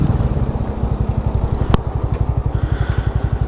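Honda Unicorn motorcycle engine thumps along with a steady, rapid pulsing beat up close, one sharp click midway, then continuing its even rhythmic throb.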